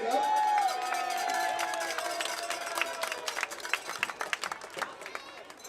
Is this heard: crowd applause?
yes